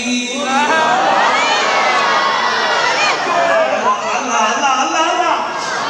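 A large crowd at a religious sermon shouts slogans in unison, a loud, sustained roar of many voices that keeps going from start to finish.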